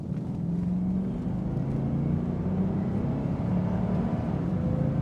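A heavy 1996 Bentley Continental R, over 5,000 pounds with a big high-torque engine, pulls hard under full throttle, its deep steady engine drone and road rumble filling the cabin continuously from inside the car.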